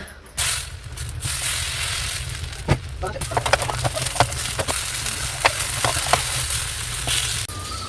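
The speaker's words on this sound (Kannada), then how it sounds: "ಈಗ ದೋಸೆ ಮಾಡ್ಕೊಬಿಡೋಣ" Dosa batter sizzles and fries on a hot pan in a home kitchen, a steady hiss with scattered scraping and clicking of a spatula, close and continuous after a sudden start.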